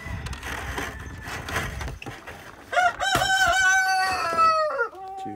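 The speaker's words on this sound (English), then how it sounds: "That's Buffy, the rooster." A breeding rooster kept with two hens on a bird farm crows loudly and close by, preceded by scattered clucking and rustling, the drawn-out crow ending in a final falling note.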